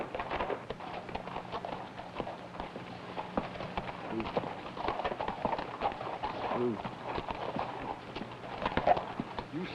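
Horse hooves clip-clop at a walking pace on hard ground, an uneven, moderately close series of knocks mixed with faint background voices and ambient noise.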